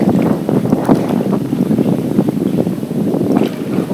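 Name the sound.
strong headwind and waves on a lake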